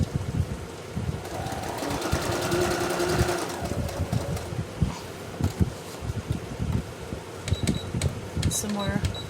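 A sewing machine stitches a zigzag on a botanical journal cover in a short, close, whirring burst of rapid needle strokes, followed by scattered handling clatter.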